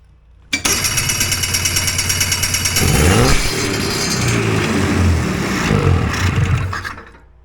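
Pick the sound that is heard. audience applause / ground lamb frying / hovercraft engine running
hovercraft engine running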